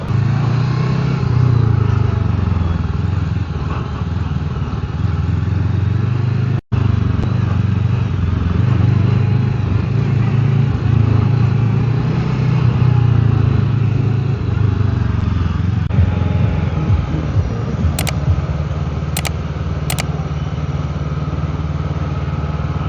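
An FKM Express500 motorcycle engine runs loud and close during a first ride, a steady droning rumble that rises and falls slightly, briefly cut by a dropout midway, with no talking.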